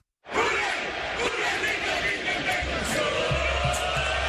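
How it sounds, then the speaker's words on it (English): A tailgating football crowd before the Miami at Cincinnati game roars and chants together after a brief silence, a loud, sustained mass of voices with a few dull thumps near the end. "The chant ripples through the tailgating crowd"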